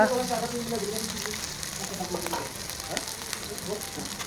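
Panch phoron, garlic and ginger sizzle steadily in hot oil in a home kitchen, a dense, continuous crackling hiss heard close up with no break.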